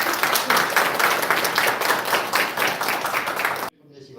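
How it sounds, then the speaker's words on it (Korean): A church congregation claps warmly to welcome a preacher at a New Year Bible conference, a full, steady round of applause that stops abruptly, followed by a faint voice. "우리 따뜻한 박수로 환영하겠습니다"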